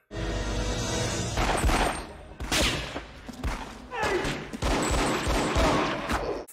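Sniper gunfire in the 1998 film Ronin: loud, sharp shots and heavy impacts land in bursts over about six seconds, mixed with crashes and movie soundtrack noise.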